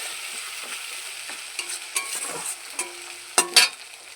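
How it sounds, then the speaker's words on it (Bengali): Ground ginger and cumin paste sautés in a pan for a bhola fish curry, a soft sizzle broken by scattered spoon stirs and scrapes, with a couple of louder clinks near the end. "বেটে রাখা আদা, জিরে বাটা দিয়ে আমি ভালো করে কষিয়ে নেব"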